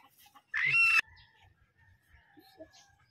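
Chickens being tied up for sale let out a loud, abrupt squawk, followed by softer clucks and a faint crowing call, close by, with light handling noise and no speech.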